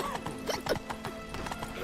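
Geralt's horse Roach in The Witcher 3 video game, with a quick run of clip-clopping hoofbeats at a brisk trot, close and steady, mixed with a brief whinny.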